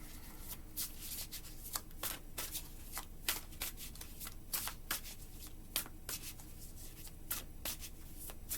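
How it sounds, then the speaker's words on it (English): Tarot cards being shuffled and drawn close up: a quiet run of crisp, irregular riffling flicks and card snaps repeating throughout, with no speech. "Let's pull some more cards."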